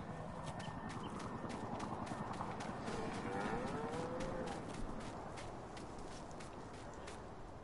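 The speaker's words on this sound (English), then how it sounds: "My cows are right here." Cows low somewhere in a farm setting, their faint, wavering calls half buried beneath a steady, dense wash of background noise that runs without a break.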